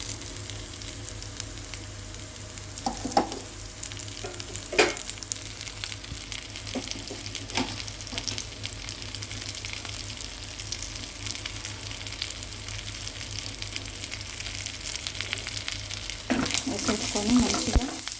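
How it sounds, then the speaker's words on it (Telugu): Onions frying in a pan for prawn fry, a continuous close sizzle broken by occasional scraping stirs and clinks of the spatula, with no voices. "ఇప్పుడు మనం దీంట్లో ఆనియన్స్ అనేది వేసేసుకుందాం"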